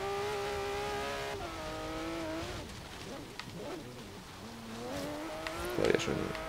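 In the Forza Horizon 3 video game, a Porsche GT3 RS engine drones and revs through shifting gears, its pitch climbing and falling, with a brief tire or impact noise near the end while someone talks over it.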